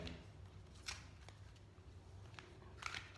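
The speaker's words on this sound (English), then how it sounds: "So I'm going to just give this a bit of a shuffle, like this." A deck of Rumi oracle cards being shuffled by hand, very quiet and close, with a few soft slaps and riffles spread over a few seconds.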